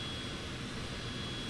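Airplane engine in windy conditions in Microsoft Flight Simulator 2020, a steady, faint broadband drone and rush without change, heard alone with no voices.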